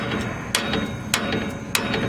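Three sharp, evenly spaced hammer strikes on metal ring out over a steady mechanical background hum, driving corroded splined rear strut bolts out of a 1992 Pontiac Grand Prix.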